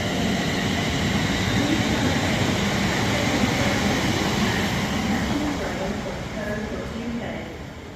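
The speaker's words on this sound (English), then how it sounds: "as 350 122 and 115 get off on their merry way towards Crewe" Class 350 electric trains pull away from Rugby station towards Crewe, a steady broad rumble and hum of traction and rolling wheels that stays strong and then eases slightly as they move off.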